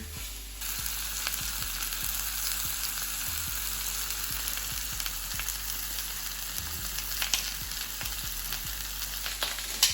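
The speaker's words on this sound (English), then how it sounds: "I'm going to go ahead and finish searing our steak here." Steak sears in a hot pan, giving a steady, even sizzle with a low crackling bed and a faint hum beneath, moderately quiet, with a few small pops and no voices.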